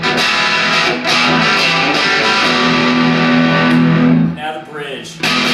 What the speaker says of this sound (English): So I'll play you some distorted tones.